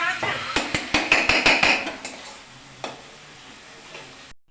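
Spices and boiled potato stirred in a pan while making aloo chop, a quick run of sharp metallic clacks from the spoon against the pan, then sparse knocks over a soft frying hiss.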